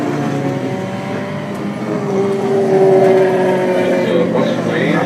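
Race car passing at the Put-in-Bay Road Race Reunion, an engine note that builds and swells toward the middle of the clip and then trails off, with steady crowd and ambient noise under it.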